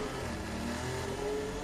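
A Formula 1 car engine running low revs in first gear, almost stalling, with a steady sustained drone that stays fairly level without strong revving peaks.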